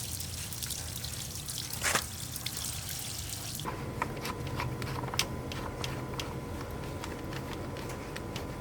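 Water drains from an Igloo Trailmate cooler, first as a continuous rushing pour, then as an irregular stream of drips and trickles splashing close by.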